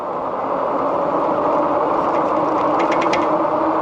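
A RadRover 6 Plus e-bike running at full throttle gives a steady, loud broadband whir and rumble, with rattling vibration and brief high ticks near the end, no voices.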